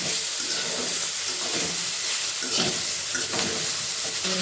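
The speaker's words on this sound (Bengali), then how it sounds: "মধ্যে ধনে জিরে জিরাটা একটু নাড়িয়ে চালিয়ে নিতে হবে" Coriander and cumin seeds frying in a pan and being stirred, a loud close sizzle with hissing steam and repeated scraping strokes, with no talking.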